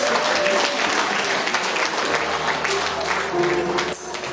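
Guests at a wedding reception applaud steadily for several seconds, a dense wash of clapping from a crowd in a hall.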